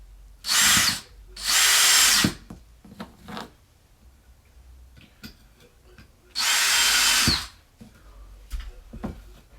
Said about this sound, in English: Using these back screws are so smooth because they just go right in.